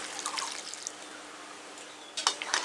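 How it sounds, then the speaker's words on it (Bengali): Water poured into a pan of potato and pumpkin: soft, close trickling and splashing in short bursts at the start and again near the end, quiet in between. "আলু কুমড়োতে পরিমাণ মতন জল দিয়ে দিচ্ছি।"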